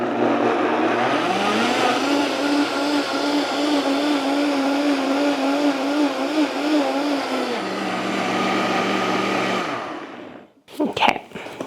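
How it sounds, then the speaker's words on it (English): A blender runs on high, pureeing watermelon for popsicles: a loud, steady whirring motor with a churning pitch that wavers as the fruit liquefies, lasting about ten seconds before it cuts off, followed by a few clunks. "Now we're going to blend it on high until it looks blended, smooth, and totally pureed and totally liquefied."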